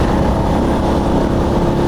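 Rusi Flash 150 carburetted motorcycle engine at speed, a loud, close, continuous roar with steady rumble and wind, no talk over it.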